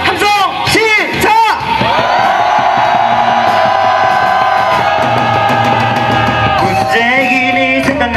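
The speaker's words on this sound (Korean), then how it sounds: "그 답답한 마음을 담아서 함성 한번 질러봅시다" A large outdoor crowd at a candlelight protest rally on Geumnam-ro in Gwangju lets out a loud, sustained roaring shout of whoops and yells, swelling and holding for several seconds before fading.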